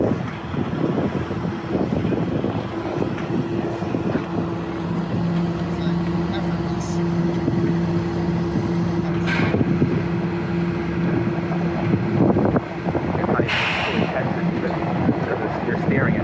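A truck engine running steadily with a low drone as it prepares to pull a 43-ton load with a little ballast in the back, with people talking over it throughout.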